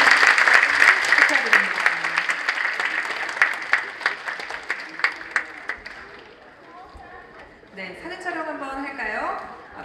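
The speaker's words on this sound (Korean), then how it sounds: "큰 박수 부탁드립니다" Audience applause at an award presentation during a multicultural migrant choir contest held by a Korean church association, dense clapping from a crowd that fades and thins out over several seconds, with talk from the stage toward the end.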